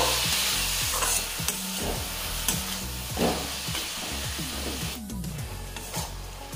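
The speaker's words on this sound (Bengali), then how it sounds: "এবারে মশলাগুলোর সঙ্গে পালং শাকটা ভেজে নেব।" Chopped spinach frying with spices in a pan for spinach dal, a steady sizzle broken by repeated stirring and scraping strokes, close and fairly loud with no talk.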